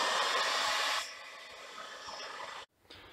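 A hot air gun blows loudly and steadily for about a second while heating a PTFE seal on a Stirling engine, then drops to a softer hiss that cuts out briefly near the end.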